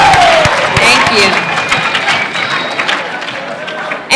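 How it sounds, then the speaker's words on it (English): An audience at a senior academic assembly applauding, dense scattered claps from a crowd filling the hall, loud at first and gradually thinning, with some voices mixed in. "You guys give them a round of applause, please."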